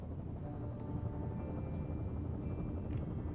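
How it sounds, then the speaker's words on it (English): Helicopter in the video game Firewatch, a steady low rotor drone that holds at an even, moderate level throughout with no talking. "There's the helicopter."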